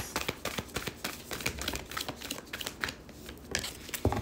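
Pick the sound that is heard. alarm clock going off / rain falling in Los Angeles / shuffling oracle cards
shuffling oracle cards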